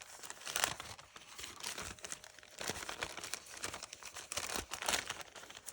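An old French paper letter from 1872 being unfolded, with close, quiet bursts of crinkling and rustling paper in uneven handling.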